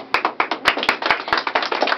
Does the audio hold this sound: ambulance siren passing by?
no